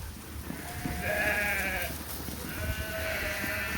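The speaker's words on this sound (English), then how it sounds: "Everybody knows these are all replacement ewe lambs." Replacement ewe lambs bleating after feeding, two drawn-out bleats heard close over a steady low farmyard rumble, with no talking.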